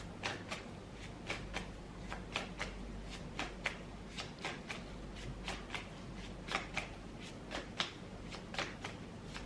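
Tarot cards being shuffled close up, a steady run of crisp riffling bursts and snaps over a low hum, with no talking.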